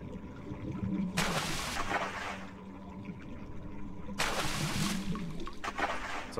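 Swimming through water in the horror game Cry of Fear: two bursts of splashing strokes, each about a second long, stand out over a low ambient hum, with faint speech in the background.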